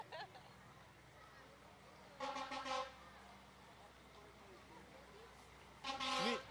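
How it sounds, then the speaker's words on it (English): Vehicle horns honking at a community peach festival parade, two loud multi-toned blasts about four seconds apart over a background of crowd noise and faint talk. "who's honking at us next, Doug?"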